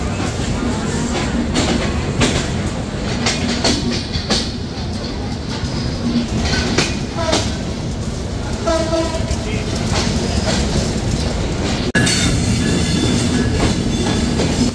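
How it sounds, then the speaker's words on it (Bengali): The Padma Express train pulls out of Dhaka Airport railway station with a continuous loud rumble of wheels and carriages, a brief horn and squealing wheels, and voices talking nearby. "প্রায় আধা ঘন্টা লেটে আমরা ছেড়ে যাচ্ছি ঢাকা বিমানবন্দর রেলওয়ে স্টেশন"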